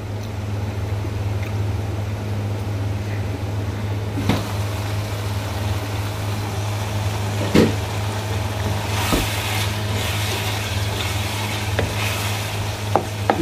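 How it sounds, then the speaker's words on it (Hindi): Minced keema with tomatoes simmers covered over low heat, giving a steady low hum beneath a faint sizzle, with a few soft clinks and taps scattered throughout. "अब हम फिर इसे ढक के स्लो आंच पे थोड़ी देर और पकने देंगे।"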